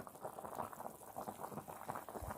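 Quiet, steady bubbling of water boiling in a pot with salmon head tom yum soup, a soft continuous burble with small pops throughout.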